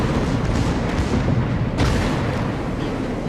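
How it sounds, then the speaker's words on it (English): An enemy ship detonates in World of Warships, a heavy, rumbling naval blast amid continuous loud battle noise, with a sharper burst partway through. "And a ship on the enemy team gets detonated"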